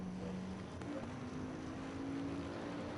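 Audi race car engine in Assetto Corsa Competizione, a steady droning hum with a rising tone held under broadband noise, fairly faint and with no talking.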